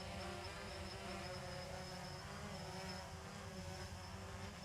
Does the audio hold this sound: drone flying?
yes